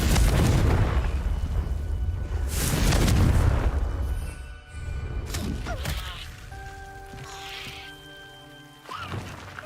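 A Confringo spell explosion in the video game Hogwarts Legacy opens with a heavy boom and rumbling blast, then fades into lighter crackling debris and a ringing magical tone, with no voices.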